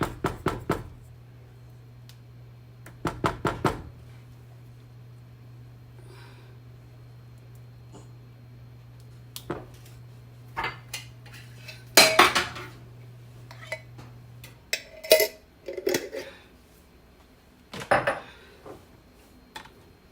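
A utensil scrapes and clinks against a jar of cheese sauce in a kitchen, making scattered, sharp knocks and scraping bursts at irregular intervals, close and fairly quiet, with pauses between.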